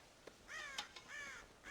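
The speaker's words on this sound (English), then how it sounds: "God damn crows!" Crows raiding a corn silo on a ranch in the video game Red Dead Redemption give several harsh, nasal caws in quick succession, fairly close and alone against a quiet background.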